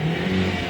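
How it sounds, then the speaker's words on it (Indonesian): A Toyota Avanza 1300 cc engine held at high revs, giving a brief, loud, steady roar with a strong droning tone and no voices. "Ini kita lakukan sekitar 15 kali pengegasan agar betul-betul kering dan hilang semua sisa-sisa kerak"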